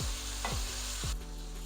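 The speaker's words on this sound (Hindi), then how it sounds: "दरमियानी आंच पे प्याज़ों को थोड़ा सा फ्राई करेंगे।" Onions fry in a pan over medium heat for a beef and bottle gourd curry, giving a constant close sizzle broken by a couple of quick spoon scrapes against the pan.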